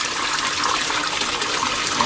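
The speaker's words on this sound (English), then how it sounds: "You notice how rapidly the sump tank is refilling." Water gushes steadily into an aquaponics sump tank as it refills, covering the inflow pipe from the fish tank; a loud, continuous broadband rush without pause.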